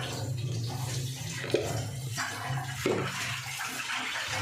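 Water is poured from a glass into a pan of potato and onion curry, a steady liquid splash and hiss running throughout with a couple of brief clinks, close and alone without talk.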